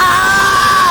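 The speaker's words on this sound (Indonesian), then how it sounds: "lari kabur ninggalin kafe sambil teriak" An anime character screams in panic while running away from a café, a single sustained, loud, high yell held steadily for under a second.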